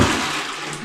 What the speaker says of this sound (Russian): Унитаз нового поколения.